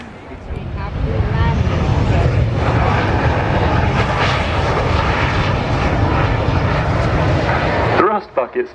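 A military jet landing at the Farnborough International Air Show with thrust reversers deployed, a loud sustained roar that swells then drops abruptly near the end, with a commentator talking over it.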